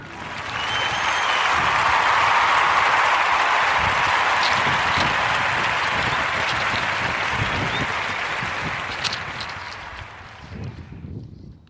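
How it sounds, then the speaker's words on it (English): A sustained round of clapping from a crowd, dense and loud from the start, holding steady before thinning into scattered claps and fading out at the end, with no talking. "join me into giving our brother, Mr. Cork Wardy, a Warm Narrative Podcast round of applause for his brand of grits"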